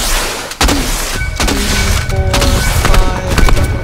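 Flare guns fired one after another in a video game, a run of sharp loud pops and thuds spaced irregularly over several seconds amid busy game sound, with a little talk underneath.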